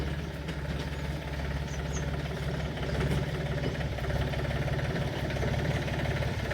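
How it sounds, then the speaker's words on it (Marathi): Tractor engine idling on a village farm, a low, steady, continuous rumble close by with no talking. "मला ट्रॅक्टरचा आवाज आला"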